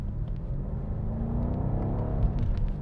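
A BMW M8 Competition Gran Coupe engine rumbles low and loud after a manual downshift, holding a steady deep drone with a slight rise in pitch toward the end, no voices.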